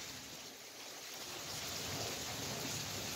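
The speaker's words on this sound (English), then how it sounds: "It's raining." Steady, dense rain pouring down continuously, a broad hiss that swells slightly louder partway through, with no voices.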